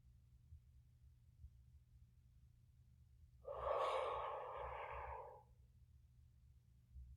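A single slow, deep belly breath, a breathy airflow rising and then gently falling over about two seconds, set over a low steady hum and heard close and clear with no talking.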